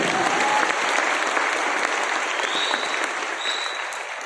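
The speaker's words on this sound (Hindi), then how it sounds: "एक जोरदार ताली होनी चाहिए सर की" Audience applause at a direct selling company event in India, honoring a company leader: steady, dense clapping from a crowd, fairly loud and continuous throughout, tapering slightly toward the end.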